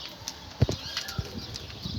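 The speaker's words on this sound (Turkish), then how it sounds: "Baya büyük bir taklacı. Tavuk gibi. Benden korkmuyor." A large Mardin tumbler pigeon flaps its wings in short, soft bursts close by, a few quick fluttering pulses at irregular moments over two seconds.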